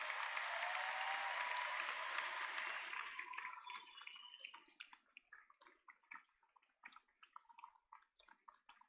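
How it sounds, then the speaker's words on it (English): A commencement audience applauds the 2023 master's degree graduates. A faint, dense wash of clapping thins after a few seconds into scattered, separate claps that fade out. "Let's have a round of applause for our 2023 master's degree graduates"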